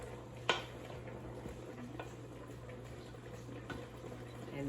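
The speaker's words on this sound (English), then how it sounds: "I'm going to put the shiitake and then mix it" Shiitake mushrooms go into a simmering pot of nishime and get stirred, giving soft bubbling and faint spoon and pot scrapes, one sharper clink near the start, all quiet and close with no speech.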